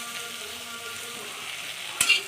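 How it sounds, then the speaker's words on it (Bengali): Flat beans, green chili, garlic and coriander leaves crackle and sizzle in a pan in a steady close hiss, ending in a sharp utensil scrape, with nobody speaking. "আর একটু ভেজে নেব,"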